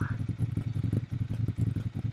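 Ducati Monster 796 motorcycle engine idling up close, a lumpy, uneven low thumping pulse with mechanical clatter, steady throb repeating throughout.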